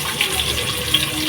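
Chopped onion sizzles in about three spoons of hot oil for a Karnataka-style non-veg dish, a close, dense, continuous crackling hiss with small pops.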